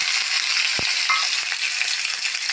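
Sliced onion and crushed garlic frying in a spoonful of coconut oil in a pan, a loud, continuous hissing sizzle up close, with one brief knock partway through.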